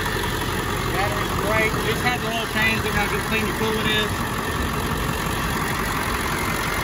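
A 7.3L Powerstroke turbo diesel idles steadily on a Jerr Dan rollback truck, a constant low rumbling clatter close by, while someone talks over it.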